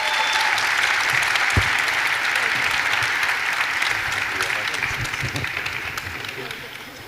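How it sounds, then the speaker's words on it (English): A conference audience at the end of a panel bursts into full, dense applause that holds strong, then slowly thins and fades over the last few seconds; one sharp thump stands out early. "But a round of applause"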